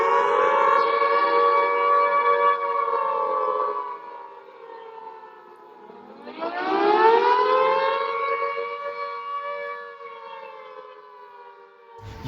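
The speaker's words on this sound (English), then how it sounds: "if you were at home and you heard an air raid siren" An air raid siren wails loud and alone, a long falling tone that dips low, then sweeps back up to full pitch before slowly winding down again.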